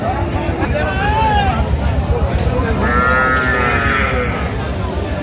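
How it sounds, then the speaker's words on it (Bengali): Young bull calves at a cattle market give drawn-out moos and bleat-like calls, close and loud, over a steady crowd babble with people talking. "ষাঁড় বাচ্চা"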